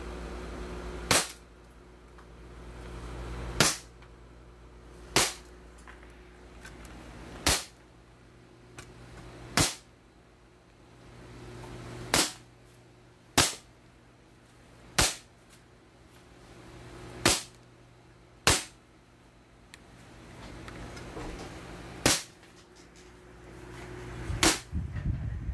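A Kimber 1911 Tactical airsoft pistol fires about twelve sharp single shots, spaced roughly two seconds apart, loud and close, until the magazine runs empty.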